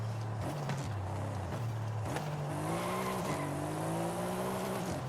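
Mercedes-Benz E63s V8 engine revving with tyre squeal in Forza Horizon 5, a loud steady drone with rising and falling pitch as the car brakes and accelerates through a hairpin, no talking.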